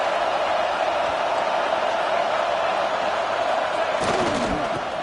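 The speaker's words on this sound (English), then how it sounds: "this crowd is at fever pitch" Steady roar of a football stadium crowd during a third-down play in the red zone, a dense continuous wash of noise throughout with a brief whistle-like tone and thumps near the end.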